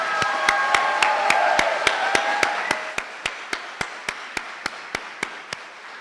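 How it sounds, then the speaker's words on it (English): Graduating middle-school class of 2025 at the Robert N. Finley moving-up ceremony receives a round of crowd applause, dense and loud at first, then thinning into a few slow, steady, isolated claps that continue alone. "How about a big round of applause for the Robert N. Finley class of 2025?"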